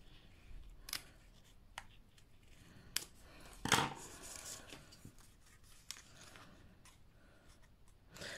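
Quiet, sparse snips of scissors trimming paper strips on a woven papercraft Easter basket, close up, with a few sharper cuts and light paper rustling between them.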